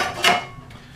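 A metal pot stand is set over a small camping alcohol stove with one sharp clank, followed by a faint rattle as it settles.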